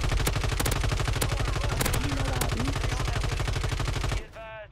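Rapid automatic gunfire in a Warzone match, a sustained, loud, evenly paced burst of close shots with a few sharper cracks, cutting off abruptly at the end.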